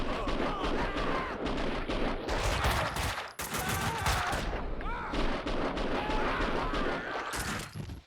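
Dense gunfire from the video game Max Payne 2, loud overlapping shots and bursts in rapid succession with brief pauses, filling the scene at close range.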